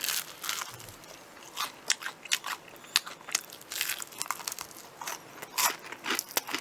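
Crunchy bites into BHC curry-flavoured Korean fried chicken, close and crisp, with a run of sharp crackling crunches and chewing spread across the clip and no talking.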